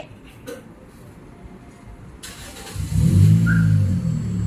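Quiet background hiss, then a 2017 Toyota Corolla Altis engine, started by remote, turns over and catches, settling into a low, steady idle close by.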